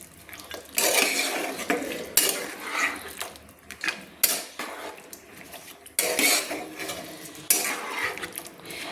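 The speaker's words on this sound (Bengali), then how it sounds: "দিয়ে একটু ভালো করে খুন্তি দিয়ে নেড়ে নিলাম" A spatula scrapes and knocks around a pan of kohlrabi curry with fried lentil dumplings in repeated bursts of stirring. The metallic clatter comes close and fairly loud, with brief pauses between strokes.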